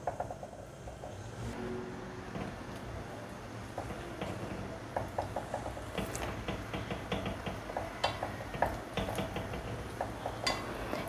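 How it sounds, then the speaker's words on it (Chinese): Eggplant and bamboo shoot patty frying in oil in a pan, a steady low sizzle with scattered light clinks and scrapes of utensils against the pan throughout. "把饼放进来煎"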